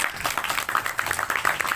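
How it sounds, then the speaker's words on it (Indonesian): Scattered audience clapping at an Indonesian Maulid religious gathering, a steady patter of many hands that stays fairly soft and even throughout. "Tepuk tangan tuh orang dulu."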